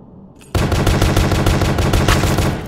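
Rapid automatic gunfire in a horror video game, a dense continuous burst of close, loud shots that cuts in sharply after a brief quieter moment and keeps firing steadily to the end.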